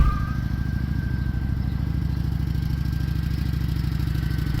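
Kawasaki Vulcan cruiser motorcycle with a liquid-cooled V-twin engine making roughly 50 horsepower, a loud, steady low rumble with rapid even firing pulses, heard close and alone.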